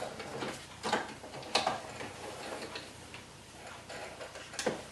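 A sewing machine lock-stitching pajama pants, heard as quiet, close, rapid ticking mechanical clicks with a few sharper knocks spread across a few seconds, with no talking.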